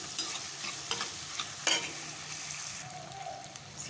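Onions turning translucent in a hot pan while being stirred, a soft steady sizzle broken by a few utensil scrapes and clinks, close but quiet.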